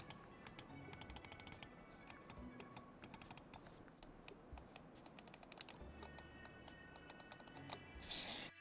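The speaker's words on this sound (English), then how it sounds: "Omron optical switches, and they sound like this." Omron optical switches on a Rawm ES21 gaming mouse click in quick, irregular bursts, sharp and close, with short pauses between clusters and no talking.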